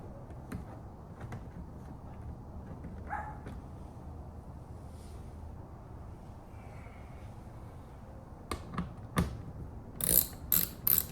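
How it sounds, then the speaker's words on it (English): A socket wrench ratchet is turned by hand while loosening bolts on a Mustang Mach E rear pony light install, giving soft scattered clicks over a steady background rumble, then a quick cluster of sharper clicks near the end. "I'm just using my fingers to twist the socket wrench."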